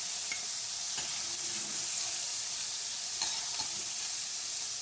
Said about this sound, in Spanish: Después de saltear los calamares los quito cuando se ha cocinado un poquito, un minutillo así.